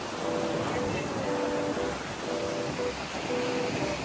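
Strong wind roaring steadily against the microphone, a constant broadband rush with faint tonal traces in the background.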